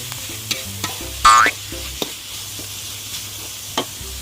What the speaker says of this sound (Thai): นั้นเราก็ใส่หมูสับลงไปเลยครับทุกคน เราจะขยี้ขยี้ขยี้ขยี้